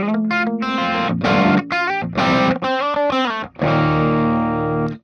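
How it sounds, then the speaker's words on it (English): Electric guitar on the bridge pickup with a crunchy, mildly distorted tone plays a string of short chords and single notes, ending on a sustained ringing chord. "you could put it on the bridge pickup and get some really nice crunch tones"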